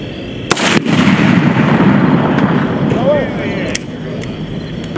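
Artillery fires during US military war games: a sharp blast near the start, followed by a long rumbling roar and fainter distant reports, with voices calling out over the noise.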